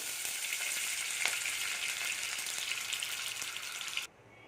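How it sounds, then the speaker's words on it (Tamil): Constant bright sizzling of butter melting in hot oil in a pan, steady and fairly loud, cutting off abruptly near the end. "அது கூடவே ஒரு ரெண்டு ஸ்பூனு பட்டர் போட்டுக்கிறேன் இது மெல்ட் ஆகட்டும்"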